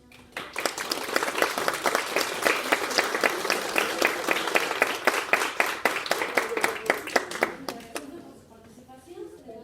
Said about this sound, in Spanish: darle un aplauso a la doctora Ana Mesa por la gran ponencia que acaba de tener con nosotros